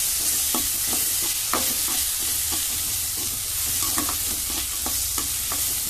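Ginger-garlic paste and onions are sautéed in a pan for a squid gravy, giving a constant close sizzle with regular scraping strokes of a spoon against the metal.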